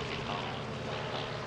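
A de Havilland Chipmunk propeller plane flies overhead at an air show, its engine a steady, moderately distant drone.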